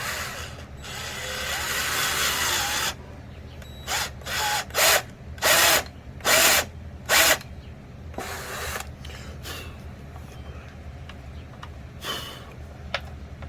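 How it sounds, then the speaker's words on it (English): A power drill bores holes in wood for a rustic magnetic shelf: one long steady run, then a series of short, loud trigger bursts, several of them back to back, with quieter gaps between. "Let's go ahead and get the rest of them drilled out here."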